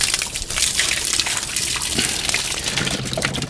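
Water sloshing and splashing vigorously inside a shaken Thetford cassette toilet tank, a continuous rushing, gurgling sound close to the listener.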